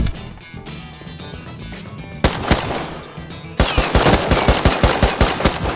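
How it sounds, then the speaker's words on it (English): Gunfire in the survival video game Rust: bursts of rapid automatic shots, sparse at first, then a louder, denser run of evenly spaced cracks near the end, with no talk. "Snatching this player's M39 rifle, I continued on towards more gunshots."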